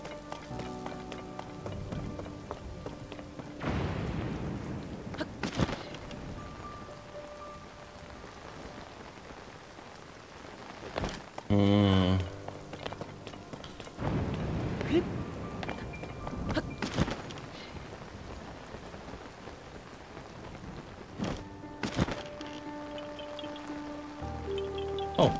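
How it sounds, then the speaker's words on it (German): Steady rain with thunderstorm ambience in the video game Zelda: Tears of the Kingdom, a continuous wash of falling rain throughout, with scattered louder bursts and game sound effects layered over it. "Nicht beim Gewitter."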